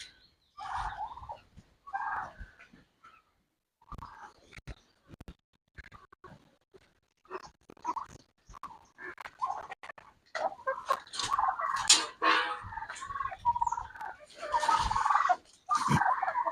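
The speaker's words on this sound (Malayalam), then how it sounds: "അതൊരു കോഴി, ചെറിയ കോഴിയൊക്കെ ഇവിടെ വന്ന് തിന്നാൻ മടിക്കുകയാണ്." Poultry gathered at feed spread on a sheet, with small hens hesitating to eat beside larger birds; scattered gobbling and clucking calls, close and irregular, grow busier over time.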